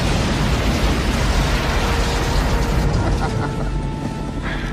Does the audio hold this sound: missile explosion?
yes